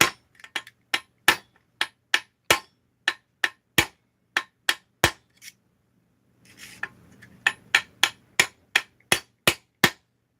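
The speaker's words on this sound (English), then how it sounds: "we're going to take and hammer this seal in." Hammer blows drive an oil seal, coated with Loctite 518 sealant, into its bore, a steady series of sharp, loud metallic strikes with a brief pause and faint shuffling noise before the rapid tapping resumes.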